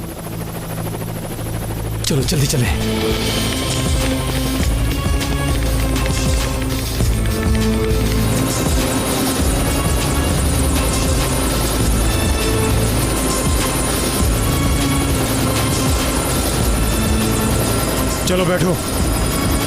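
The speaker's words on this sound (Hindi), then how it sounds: "ये आवाज सुन रहे हो? हेलीकॉप्टर की आवाज।" A helicopter flying nearby and about to land close by, a loud constant rotor drone with a heavy low thump and buzzing hum that runs throughout, while people speak briefly over it.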